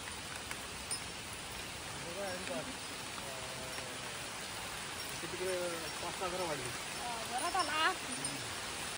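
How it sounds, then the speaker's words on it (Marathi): A steady, dense hiss of heavy monsoon rain in the Konkan fills the whole stretch while someone speaks over it, with cattle grazing nearby. "खूप जोरात पाऊस चालू आहे, एकदम जोरात सर आलेली आहे"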